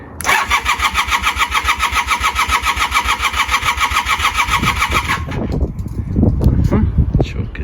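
A 1982 Honda CM450 motorcycle engine is cranked by its electric starter with the choke on, giving a steady, rapid mechanical whir that stops after about five seconds, followed by scattered clunks and handling noise.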